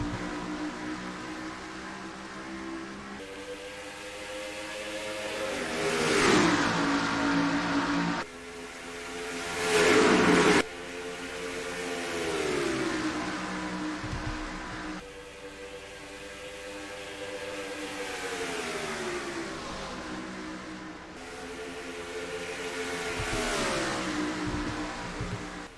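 Race car engines roar steadily as a NASCAR Racing 2003 field takes the green flag at Las Vegas Motor Speedway, with layered engine drones that surge louder in waves as cars pass close.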